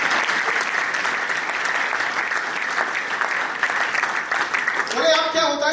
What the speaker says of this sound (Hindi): तालियां बजाएं तो अच्छे से बजाएं।